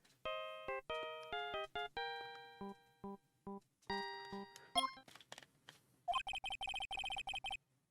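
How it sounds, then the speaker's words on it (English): A theme from the Phoenix Wright: Ace Attorney game plays as a phone ringtone, a bright electronic melody of short stepping notes, followed by a rapid pulsing electronic ring, clear and alone. "I know that song your phone plays when it rings."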